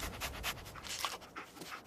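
Dogmeat, the dog companion in the Fallout 4 video game, pants close up in quick, steady breathy puffs, repeating rhythmically throughout with no voices over it.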